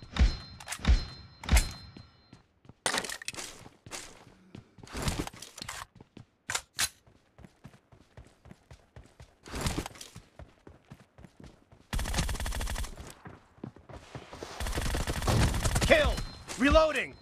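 Groza assault rifle fire in a video game, heard as sharp bursts and single shots with pauses between, punchy and close.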